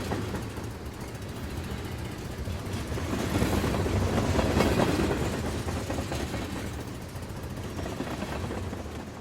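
A train passes in an audio drama scene, a steady rumble of rail wagons that swells to a loud peak midway and then fades, with clickety-clack rhythm throughout and no voices.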